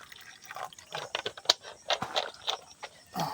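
Water pouring or dripping in an outdoor planting setting, with a series of light, irregular splashes and drips at close range and no voices.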